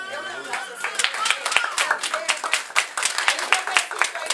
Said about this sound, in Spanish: De un aplauso, Señor.